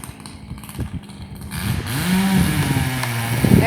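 Stihl and Echo chainsaws cutting a dead ash tree, with an engine that swells from a low idle into a loud whining rev that rises and falls, recorded nearby.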